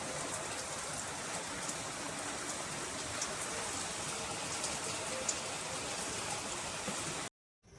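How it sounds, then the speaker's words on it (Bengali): Heavy early-morning rain pours in a steady, even hiss of drops on surfaces, then stops abruptly at the end. "জোর বৃষ্টি হচ্ছে।"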